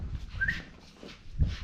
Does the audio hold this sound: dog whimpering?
yes